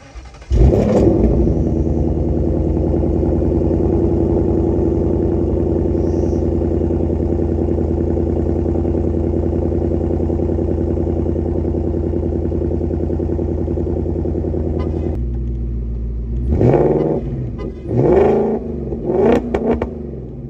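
A 2024 Mustang Shelby Super Snake with 800+ horsepower, its engine droning steadily and loudly for about fifteen seconds, then shifting to a lower tone with several short revving surges near the end.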